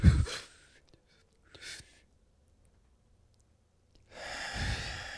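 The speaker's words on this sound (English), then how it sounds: "You take a deep breath." Deep breaths taken close up, a short sharp inhale, a brief faint one, then a long heavy exhale that swells and fades, with silence between them and no talk.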